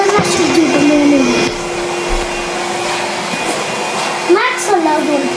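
Cordless Henry vacuum cleaner running indoors at home, a steady loud motor whine and airflow rush throughout, with brief voices and small shifts in pitch as it moves.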